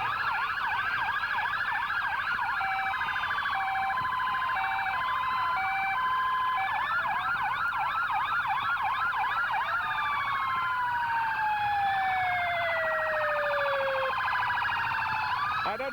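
Police car sirens from the Basile Police Department wail through a small-town swine festival parade, several overlapping sweeping and yelping tones sounding loud and close for the whole stretch, with steady crowd and street noise beneath.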